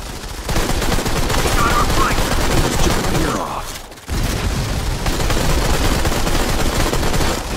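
Sustained rapid gunfire in a video game aimed at a bunny, loud and dense bursts of automatic shots with a brief pause near the middle before the firing resumes, a voice speaking faintly beneath.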